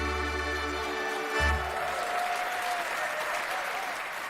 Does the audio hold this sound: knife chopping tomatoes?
no